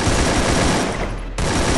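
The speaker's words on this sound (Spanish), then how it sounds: "Están disparando por acá" Automatic gunfire in the Free Fire battle royale game, a loud, dense, continuous burst that fills nearly two seconds and eases off briefly before resuming at full strength.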